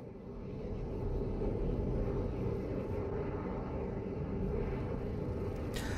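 Valkyrie aircraft from the game PlanetSide 2 flying over the Indar desert, a steady loud engine drone with a low rumbling roar that holds throughout and swells slightly at the end.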